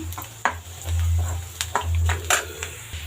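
Spiced egg puff stuffing stirred in a pan on the stove, with a spoon scraping and clinking against the metal in irregular strokes over a faint sizzle, close and fairly quiet.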